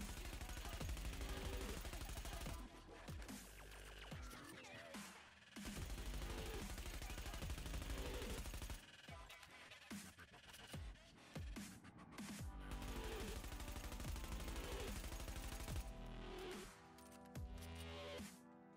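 A Vector submachine gun fires at short range in The Division, heard as repeated loud, close automatic bursts separated by short pauses, rapid and dense throughout.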